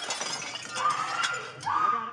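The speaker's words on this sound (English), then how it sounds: "police shattered, then shot through a window" Police break a house window during a raid: a brief glass shatter and breaking crash stands out from a noisy, tense background.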